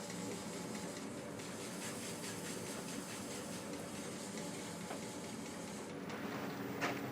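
Sandpaper rubs against a turned wooden box spinning on a woodturning lathe, a steady dense hiss over the motor's drone that continues without a break for the whole stretch.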